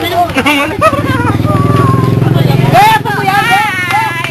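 A motorcycle rumbles steadily past in a street parade, a loud idling engine throb under excited crowd chatter and cheering voices that continue after it goes by.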